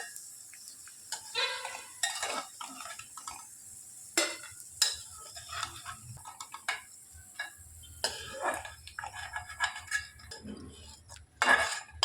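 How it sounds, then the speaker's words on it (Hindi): Fried dry fruits are lifted out of hot ghee onto a plate while making mawa gujiya, with close scraping and stirring clinks of a spoon against a pan over a soft sizzle, continuous and fairly quiet. "अब इनको हम प्लेट में निकाल लेंगे।"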